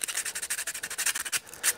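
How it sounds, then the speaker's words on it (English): Rhythmic rasping strokes of sandpaper rubbed back and forth by hand, close and quick, about a dozen passes without any talking. "I'm just sanding this down."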